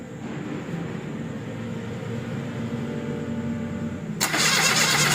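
Starter motor cranking a car engine with an electronic fuel injection system, a steady churning drone that runs for about four seconds before the engine catches and the sound jumps louder and brighter at the end.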